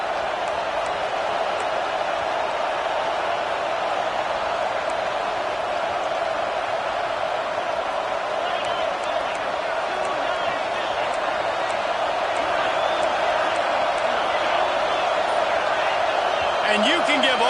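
Dense, continuous stadium crowd roar from an American football video game holds steady and loud throughout, with a commentator's voice running over it.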